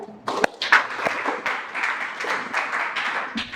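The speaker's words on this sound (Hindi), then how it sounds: "थोड़ा ताली बजाए" A church congregation claps during a sermon, producing scattered, uneven hand claps with a few sharper taps. The applause is moderately quiet and somewhat distant, with no speech over it.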